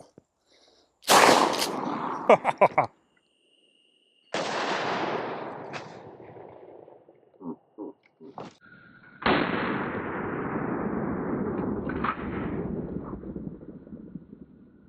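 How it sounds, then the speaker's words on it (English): A Mossberg shotgun fires full power high brass buckshot in several loud, booming blasts, each trailing off into a long rumbling echo outdoors, with short clicks and clatter between shots. "We have some full power, high brass buckshot there coming out of the Mossberg, and it's gonna thump."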